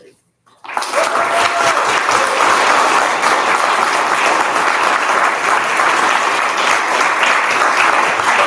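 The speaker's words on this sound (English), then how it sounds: "We have one more round of applause for Jacob." Audience at a university BFA thesis reading bursts into loud, sustained applause after a brief silence, dense clapping filling the room evenly to the end.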